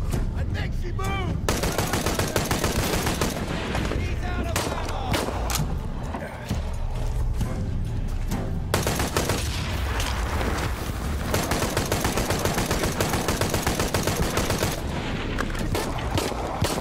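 Dense, loud gunfire in the Shadow of the Tomb Raider video game, rapid automatic bursts and single shots overlapping almost continuously with a brief lull, alongside game voices.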